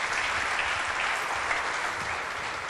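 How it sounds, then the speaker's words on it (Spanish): A congregation at a Bible study applauds for the Lord, producing a steady, full wash of many hands clapping at once, sustained evenly from start to finish with no speech over it. "Démele un aplauso al Señor, por favor."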